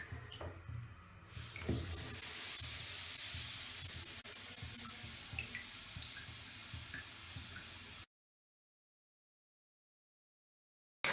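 Bath bombs fizzing steadily in a filled bathtub, a continuous hissing spray of bubbles after a few small knocks, then silence.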